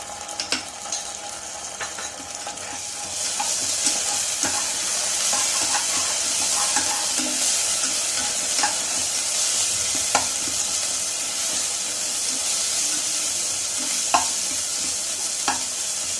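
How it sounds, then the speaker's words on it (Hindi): Ginger-garlic paste sizzles in hot oil with golden brown onions while egg curry is cooked. A steady, loud frying hiss runs throughout, with occasional light clicks from stirring and no talking. "मु एबे यादर अदा रसुण पेस्ट पके देबी गोटे चम्मच"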